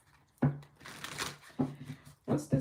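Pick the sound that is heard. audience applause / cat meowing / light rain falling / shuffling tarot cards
shuffling tarot cards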